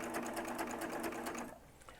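Serger sewing machine stitching a quarter-inch seam, a fast steady mechanical whir with rapid rhythmic ticking that runs loud and close, then winds down near the end.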